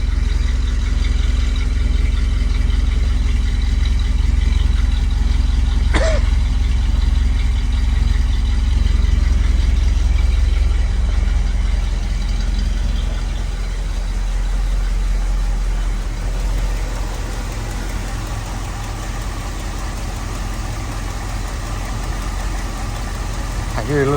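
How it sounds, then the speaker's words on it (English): A 1965 Ford Thunderbird engine idles with a steady, close, low rumble and a light lifter tick, settling slightly quieter partway through. "I hear a little ticky ticky."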